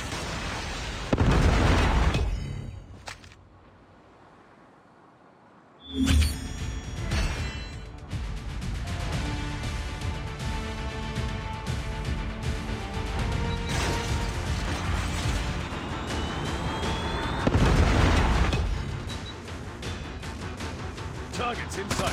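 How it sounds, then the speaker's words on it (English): Heavy predator missile explosions burst loudly during a Call of Duty Mobile Hardpoint match, one blast near the start, another around the middle and a third later, amid continuous gunfire clatter and in-game voice callouts. "Predator missile inbound."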